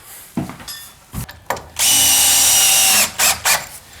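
Power drill driving fasteners into a king stud while framing a pocket door opening: brief bursts, then one long loud whirring run, followed by two short trigger pulls.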